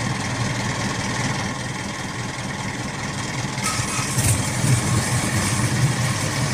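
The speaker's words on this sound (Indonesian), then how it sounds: "Nah, kapal sudah mulai meninggalkan dermaga." Engine of a fishing boat pulling away from the dock, a steady low idling drone that holds throughout and swells a little toward the end, with no talk over it.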